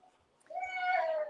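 A sick house cat lets out a single drawn-out meow, close and fairly clear, rising then holding for under a second against a quiet room.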